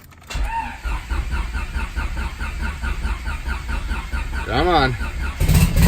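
Turbo Honda Civic engine cranks with a rapid rhythmic churning that runs for several seconds, then catches and revs up at the end; someone briefly speaks during the cranking.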